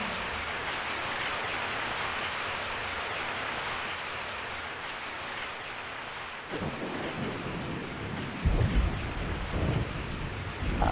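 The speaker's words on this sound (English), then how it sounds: "I woke up to the sound of falling rain." Heavy rain hisses steadily in the Resident Evil game The Fall of Raccoon City, with rolling thunder rumbling in past the midpoint and a louder crack near the end, no voices.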